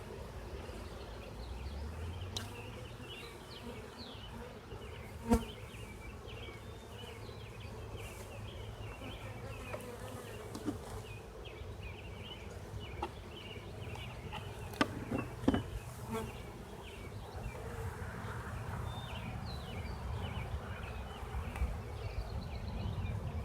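Honey bees in a hive holding a virgin swarm fan and buzz in a loud, dense, steady drone that fills the whole stretch, with a few brief knocks from the hive frames.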